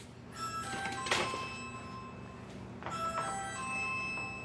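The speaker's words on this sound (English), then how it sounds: "Someone's ringing our doorbell." A doorbell chime rings indoors in a home kitchen, two clear ringing tones several seconds apart over a quiet room background.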